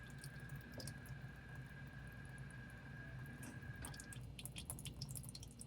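Water drips and trickles steadily as a GE Profile washing machine with a leak drains in a garage, a faint continuous watery patter with a thin steady tone running through most of it, no talking.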